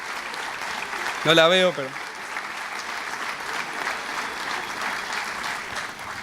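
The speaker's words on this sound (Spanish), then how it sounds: "Un fuerte aplauso para ella." Sustained audience applause at the closing conference of the Fifth Cooperative Summit of the Americas, a broad, even wash of clapping interrupted briefly by a nearby voice speaking.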